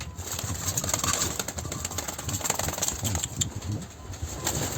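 Caged pigeon-like birds stir and shuffle restlessly, with soft wing flutters and scratchy movement running steadily throughout, close up, and a faint coo now and then.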